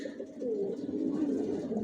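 Racer pigeons in a breeding loft give a soft, low, continuous coo at close range, alone without any talk.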